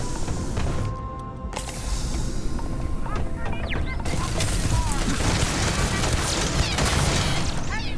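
Turrets open fire in the video game Starfield, a dense, continuous clatter of impacts and booms that swells after the first few seconds, layered with game sounds and no clear talk.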